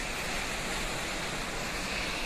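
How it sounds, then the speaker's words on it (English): Continuous rushing roar of Tosh Waterfall, a dense, even wash of falling water with no pauses or voices. "Okay, maybe that is the waterfall."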